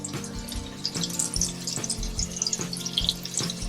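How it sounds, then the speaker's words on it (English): Steaks frying in about a quarter cup of oil in a pan, a bright crackling sizzle close by with repeated sharp pops and spatters that come in bursts over a low hum, with no voices. "So we got about a quarter cup of oil on our pan here. Put our steaks in."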